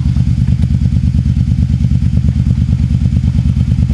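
A motorcycle revs on a rocky route, its engine close and loud with a rapid, even, pulsing throb and some clatter, continuous throughout.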